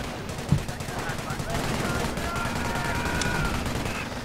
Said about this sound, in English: Still taking pot shots at the units in the trench.